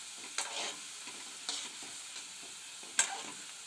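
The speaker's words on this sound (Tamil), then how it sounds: "நல்லா திருப்பி திருப்பி உடையாதபடி நம்ம கிளறி விடணும்." Gulab jamun frying in oil over a medium flame, a soft steady sizzle broken by several gentle stirring scrapes and one sharp clink of a utensil, heard close with no talking.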